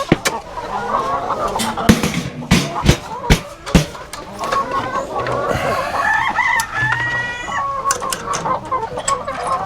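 Farmyard chickens and roosters in a coop cluck loudly and continuously, with sharp close pecks and bursts of crowing, a dense busy mix of fowl calls up close.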